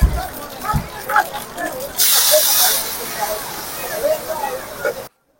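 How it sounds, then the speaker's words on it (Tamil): Freshly stone-ground masala poured into hot oil for Hogenakkal-style fish kulambu, bursting into a loud, broad sizzling hiss for a few seconds before easing back into steady frying crackle. "ஆட்டுக்கல்ல போட்டு ஆட்டின எல்லா மசாலாவுமே வந்து ஊத்திட்டாங்க."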